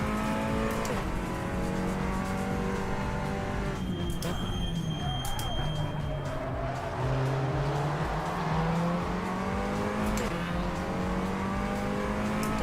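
A front-wheel-drive race car in the Assetto Corsa racing game, engine revving hard and shifting through gears with brief tire squeal, loud and continuous throughout.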